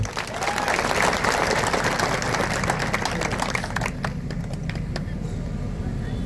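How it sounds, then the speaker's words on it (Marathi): Loud, sustained applause from a crowd at an outdoor political campaign rally in a town square, dense and steady throughout before thinning slightly near the end. "एकदा जोरदार टाळ्या होता त्याचा"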